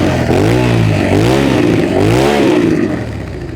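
A 2002 Suzuki SV650 motorcycle engine runs close by after a carburetor cleaning, revving up and down twice in smooth, snappy swells over a steady engine note.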